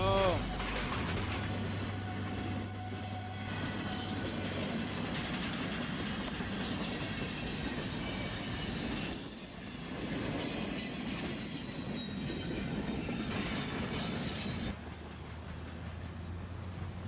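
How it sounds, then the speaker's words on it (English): Video game train roars past and slams into a truck, a long rumbling rush with screeching wheels and rattling carriages, loud and continuous, with a brief dip midway before the noise carries on. "He's gonna get hit by the train."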